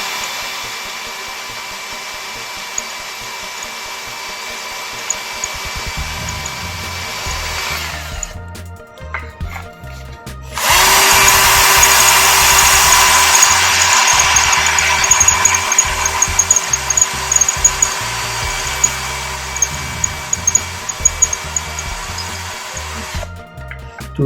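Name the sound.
Bosch GSB 120LI cordless drill drilling an old expander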